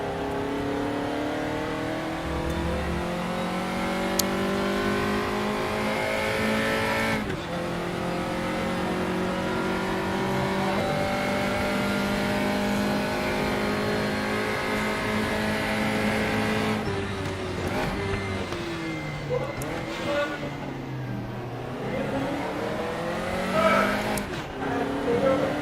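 A race car engine revs and shifts through gears in RaceRoom, its pitch climbing and dropping steadily for the whole stretch, close and continuous, with brief tire noise near the end.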